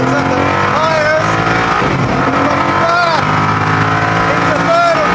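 A Koenigsegg Agera pulling hard from first gear with traction control switched off, its engine roaring loud and close in a rising, sustained surge that stays strong throughout with no talking.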